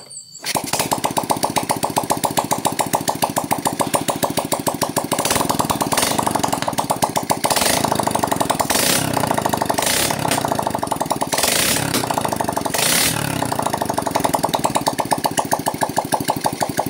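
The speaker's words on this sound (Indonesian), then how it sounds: "tinggal kita hidupkan lagi motornya" A Honda Revo fuel-injected motorcycle engine, rewired with a Revo CDI, starts after a brief pause and idles with a rapid, loud, mechanical putter, with repeated revs swelling the sound for the rest of the stretch.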